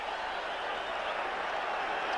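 Stadium crowd noise rises at the 1988 Rugby League World Cup Final between New Zealand and Australia, a broad, steady roar of cheering spectators heard from a distance, sustained throughout.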